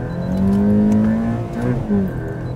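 A nearby car engine revs, climbing in pitch, easing off, then surging briefly again across a few seconds, loud and close with no voices over it.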